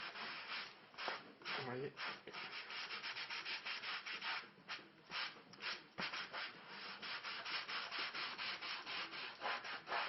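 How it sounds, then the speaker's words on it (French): A sponge rubs and scrubs over a leather car seat in quick repeated strokes, close and steady, with brief pauses between passes and a voice speaking briefly over the scrubbing. "je vais prendre l'éponge. Comme si je voulais nettoyer le cuir."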